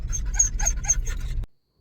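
A pet dog at a grooming spa in Cochin pants in quick, breathy bursts with a few thin whimpers, close and moderately loud for about a second and a half before cutting off to silence.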